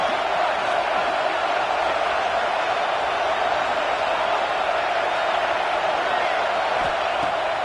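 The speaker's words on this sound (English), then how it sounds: "This crowd, full throat, splitting the eardrums and letting them know it's going to be a long day" Full-throated stadium crowd at a football game roaring continuously and loudly, a dense broad wash of cheering that stays steady throughout without a break.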